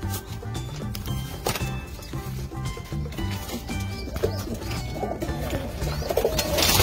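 Pigeons cooing in a home pigeon enclosure, including a young grey and white fantail mix, with soft repeated low coos continuing steadily alongside ambient rustling and bird sounds nearby.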